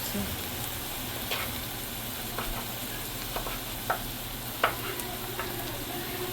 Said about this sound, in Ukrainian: І лук тушиться